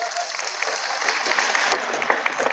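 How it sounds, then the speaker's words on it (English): A short burst of audience applause at a pop culture expo panel, brisk scattered clapping from a crowd at steady loudness. "Let's give her a round of applause."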